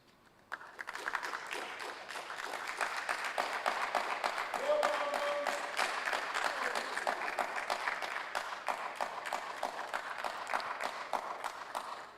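An audience at a tertiary business quiz competition applauds to welcome two university teams onto the stage, a steady, moderately distant round of clapping that rises quickly and continues for over ten seconds.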